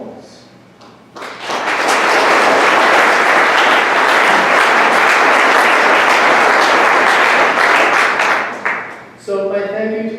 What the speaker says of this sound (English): These are the people that really deserve a big round of applause.